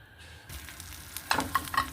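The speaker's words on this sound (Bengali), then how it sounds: "এখন রুটিগুলো হচ্ছে ভেজে নেওয়ার পালা" Rotis, Bangladeshi flatbreads, frying in a home kitchen pan: a soft, steady sizzle with a few sharper scraping and clinking touches toward the end. It is quiet and close, with no talking.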